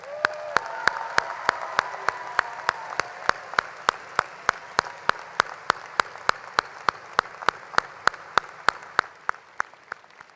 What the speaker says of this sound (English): I ask that our retirees to remain standing for a round of applause.